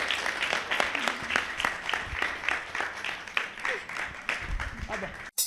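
Audience applause fills a boxing club hall in Burundi, a dense, steady patter of many hands clapping close by for the whole stretch, with voices mixed in underneath.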